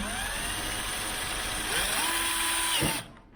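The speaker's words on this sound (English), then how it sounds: "I'm just going to drill a hole nicely inside" Power drill boring a hole while installing Diode Dynamics RGBW LED halo lights on a 2018-2020 Jeep JL Wrangler, a close steady whine that rises in pitch under load before cutting off abruptly.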